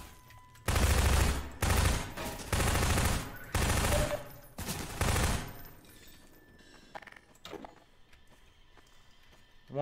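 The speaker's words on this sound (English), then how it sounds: "Oh, it's a submachine gun" Submachine gun in Half-Life 2 fires in five loud sustained bursts, each roughly half a second to a second long, separated by brief pauses, followed by quieter ambient game noise.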